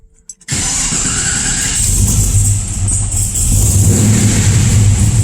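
After a brief quiet moment, a car engine fitted with a 4L80E transmission fires up nearby and settles into a steady, rumbling idle.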